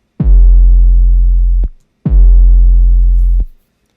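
Two deep, booming 808 bass notes with a faded-in sub layer, each a sharp punchy attack followed by a sustained low tone that stops abruptly, with a short gap between them.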